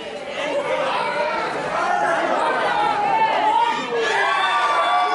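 A wrestling crowd at a live event cheers and chatters loudly throughout, with shouts and whoops rising out of a dense, continuous roar of voices.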